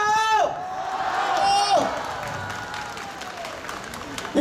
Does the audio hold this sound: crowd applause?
yes